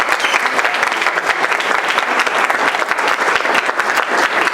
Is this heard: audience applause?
yes